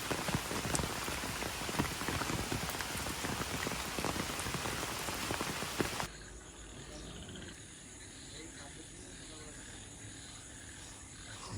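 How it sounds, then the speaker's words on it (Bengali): Moderate rain pattering loudly and steadily on surfaces nearby, then cutting abruptly to a much quieter background where faint insect-like chirping remains. "জোরে বৃষ্টি হচ্ছে না এই যে এরকমই বৃষ্টি হচ্ছে"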